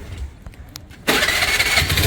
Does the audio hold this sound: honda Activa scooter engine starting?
yes